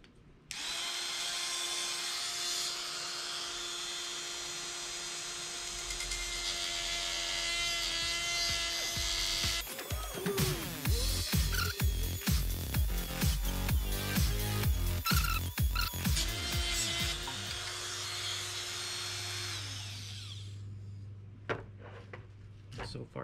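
A high-pitched rotary power tool whines steadily while cutting a hole in a Corvette C5 center console, then shifts to a stretch of rapid rough chattering bursts as it bites into the plastic before whining steadily again, loud and close.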